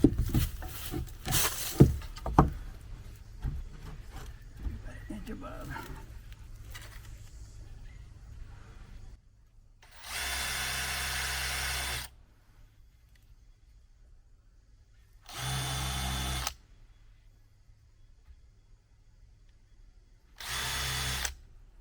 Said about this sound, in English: I'm going to drill a bunch of holes in all the wood